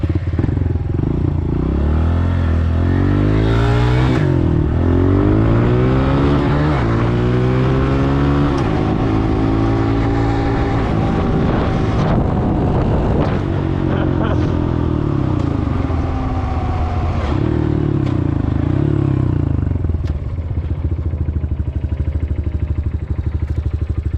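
A motorcycle engine revs repeatedly up and down nearby, with rising and falling pitch sweeps and rattling clutch engagement, loud and continuous for the whole stretch, no talking heard.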